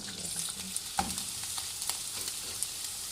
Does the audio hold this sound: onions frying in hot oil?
yes